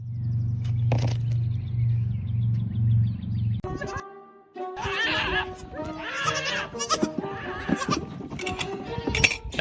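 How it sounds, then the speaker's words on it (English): Goats at a goat farm bleat several times in loud, wavering calls close by, following a steady low hum, with a few other farm sounds mixed between the cries. "Average day at the goat farm."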